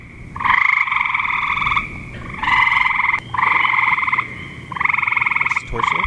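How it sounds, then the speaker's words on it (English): A green frog calls in a series of four loud, twangy croaks, each lasting about a second, with a plucked, loose-banjo-string tone and short gaps between them. "The first one, the green frog, is sometimes said to sound like a loose banjo"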